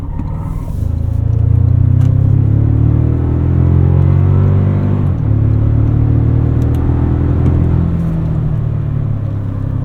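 A 2024 Toyota Tacoma TRD Pro mid-size pickup accelerates hard in sport mode, its engine droning loud and steady from inside the cab, with rising and falling rev sweeps and a brief dip around the midpoint, no talking.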